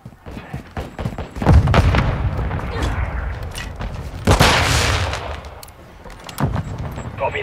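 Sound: mortar strike explosions in Call of Duty Modern Warfare II video game

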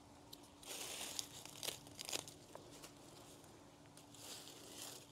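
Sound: cutting crisp dry hosta leaves in garden cleanup

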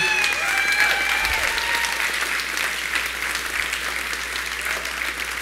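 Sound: applause from crowd

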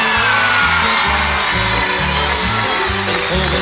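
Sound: audience applause

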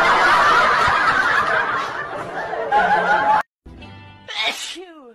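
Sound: baby sneezing

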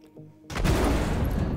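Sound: size 1 missile hitting Sabre shields in Star Citizen video game

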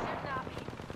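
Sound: gunfire in Apex Legends video game

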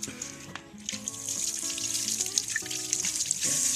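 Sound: water hose spraying a motorcycle chain

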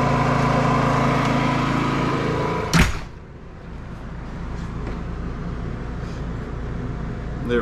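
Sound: Predator 5000 generator running under electrical load test

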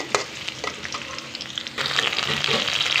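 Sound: chopped onions frying in a pan

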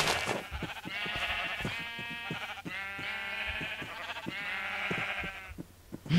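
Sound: sheep bleating in Minecraft video game

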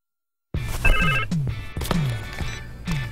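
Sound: cell phone ringing with incoming call

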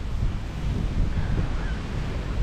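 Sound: sea waves at Nha Trang beach, Vietnam

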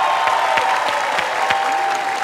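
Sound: audience applause for a contestant

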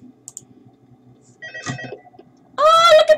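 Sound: telephone ringing in video game Five Nights at Freddy's 2

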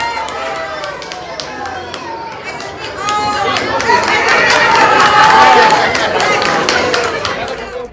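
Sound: audience applause at rabbit show

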